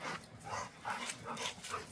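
A dog at a bull breed kennel whimpers and yips in short, repeated, whiny bursts. The sounds are close but fairly soft, with no talking.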